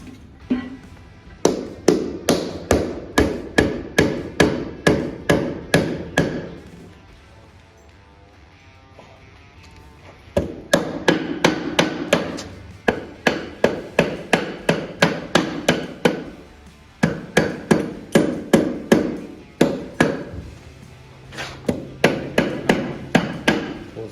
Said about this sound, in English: Mallet.